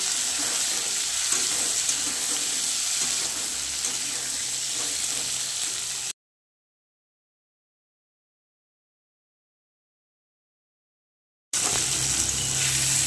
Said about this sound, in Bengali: টমেটো আলুটা ভেজে নেব।